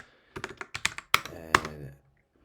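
A run of computer keyboard keystrokes while entering a command in a GNU Linux terminal, quick clustered taps at close range ending in a firmer press of the Enter key, with no voice over it.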